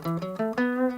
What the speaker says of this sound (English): So there's a scale called the pentatonic scale,